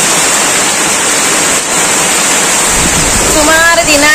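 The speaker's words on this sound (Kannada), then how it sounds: "ಜೋರು ಬರ್ಸವನು" Heavy rain pours down around a house in a dense, loud, unbroken hiss, with a voice speaking near the end over the downpour.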